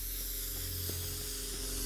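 Spray can hissing in the video game Teardown, a steady broadband spray sound running continuously under faint background game hum, close and even in level.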